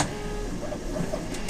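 An iNSTONE Inventor Pro 3D printer running with its cover on, giving a steady mechanical hum with faint whirring motor tones and small clicks, close and continuous with no talking.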